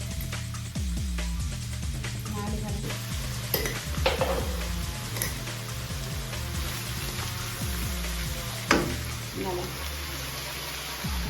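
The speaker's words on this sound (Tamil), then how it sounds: "வெங்காயம் நல்லா அரைவாசம் வந்ததுக்கு பிறகு இறைச்சி போட்ட பிறகு ஊறு யாழ்ப்பாணத்து கறித்தூள்" Mutton fries with softened onions and Jaffna-style hand-pounded curry powder, giving a continuous loud sizzle broken by repeated stirring scrapes and pan clinks, with occasional brief voice sounds.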